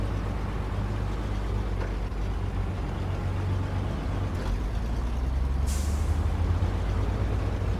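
A truck's air brake releases a sharp, loud hiss of escaping air over a steady low engine idle, standing out once near the end of the steady rumble.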